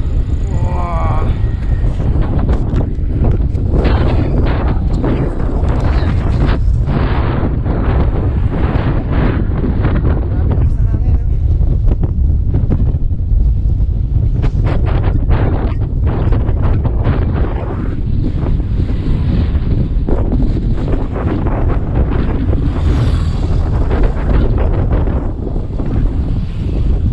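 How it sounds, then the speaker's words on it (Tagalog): Strong wind buffets the microphone during a bike ride along Sabang Beach in Baler, Aurora, a loud continuous roar with gusts, while people talk intermittently over it. "Grabe, sobrang lakas ng hangin. Hinihinto kami ng hangin."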